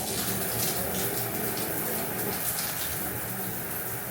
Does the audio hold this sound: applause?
no